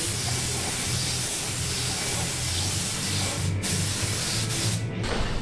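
A spray gun lays a coat of paint over body filler on a 1952 Ford, a steady close hiss running unbroken for several seconds, with a couple of brief pauses in the spray near the end.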